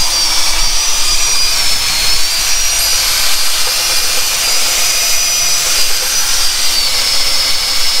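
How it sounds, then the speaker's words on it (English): A wire brush on a drill scouring flakes and crust from a 1956 Buick Century cooling system part, producing a loud, continuous high-pitched whirring grind that holds steady throughout. "with the wire brush real quick on the drill just to kind of clear out some of the flake and the crust"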